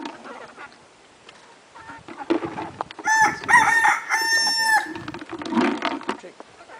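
Rooster crowing and hens clucking around a nesting hen sitting on eggs in a country farmyard; one loud, near crow rises over softer scattered clucks and faint background voices.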